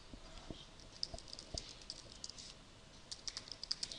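Text typed on a computer keyboard, a quick irregular patter of light key clicks in small bursts, close and fairly quiet with no speech.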